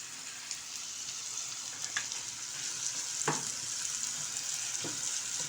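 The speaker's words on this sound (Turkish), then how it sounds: "Soğanlar bayağı bir kavrulacak yalnız arkadaşlar." Onions sizzle and crackle steadily in a hot pan, a soft continuous frying hiss with occasional small pops.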